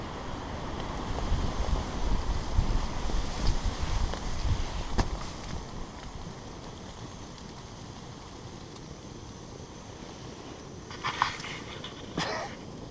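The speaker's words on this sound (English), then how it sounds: "Looks like the wind direction changed." Wind gusts against a tent pitched on snow during solo winter camping in Colorado, a broad rushing roar that swells loudly for the first several seconds, then eases to a steadier low blow with a few sharp flaps near the end.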